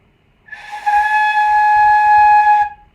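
A steady, bright tone from a flute headjoint alone, blown with a "poo" articulation, starts with a soft puff of air and holds for about two seconds before stopping.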